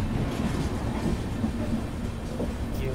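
A continuous, steady rumble and rattle of a train running along the line between Hyderabad and Tirupati near Guntakal-Gooty, heard from aboard, fairly loud and unbroken, with faint clatter and no talk.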